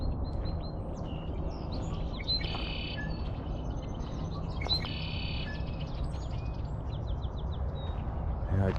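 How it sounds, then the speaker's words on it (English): A blackbird perched in a tree at Barr Lake, Colorado, gives a few sharp repeated chirping calls over a steady outdoor background, with other faint birdsong around and no talk. "There's a blackbird up on a tree."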